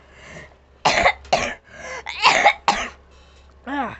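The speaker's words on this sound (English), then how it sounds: "Hold on a second, I'm gonna cough." A series of several harsh, rough coughs close to the listener, uneven in rhythm, ending with a short strained vocal sound.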